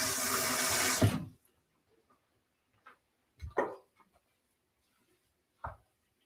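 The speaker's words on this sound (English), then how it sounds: "I'm actually gonna put a little bit more water in that" Water poured into a crawfish pie dressing for a baked dish: a steady rushing pour up close for about a second, then a few brief soft splashes and clinks.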